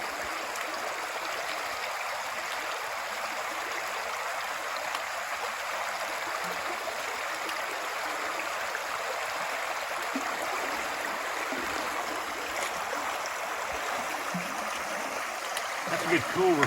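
A stream on the Appalachian Trail flows in a steady, broad wash of running water, constant and fairly close, with no voices.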